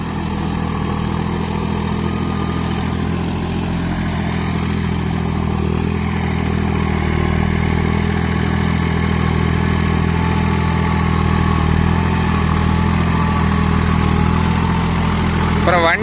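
A Swaraj Target 630 mini tractor engine runs steadily at idle, a loud, close, continuous low rumble with a faint rattling clatter throughout.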